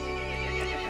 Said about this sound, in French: Le cheval se mit en colère et appela les autres monstres.